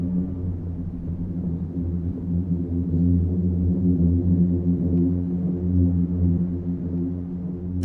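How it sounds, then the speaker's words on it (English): Booming sand dunes in Death Valley give off a deep, steady drone that holds for the whole stretch, a low humming roar with layered tones and slowly swelling loudness, with no voices. "The sound you're hearing is actually coming from within the dunes themselves."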